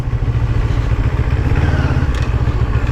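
A Honda CB400 motorcycle engine runs close by, a steady loud rumbling idle with an even low throb and faint mechanical clatter throughout.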